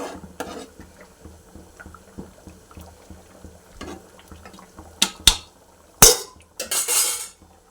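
A spoon stirs a pot of curry, with soft scraping at first, then a few loud metallic clanks and a rattle of the pot near the end.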